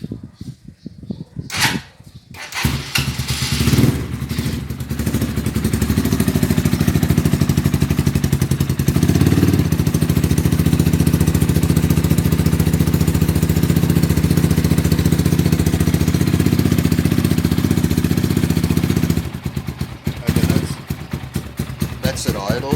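A Rusi Sigma SS250 motorcycle with a Yoshimura replica exhaust and the baffle removed starts and then settles into a loud, raspy idle up close, holding steady for most of the stretch before cutting back.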